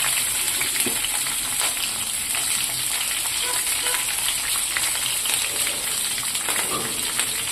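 Green chillies and onions with a little cumin frying in hot oil in a pan, a constant close hiss and crackle with faint stirring, even and uninterrupted.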